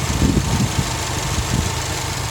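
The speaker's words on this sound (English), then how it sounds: "the idle speed's come up because the fan just came on" A 2018 Subaru WRX STI idles with its radiator fan running, giving a steady, loud engine drone layered with a broad whooshing fan hiss, close up and without speech.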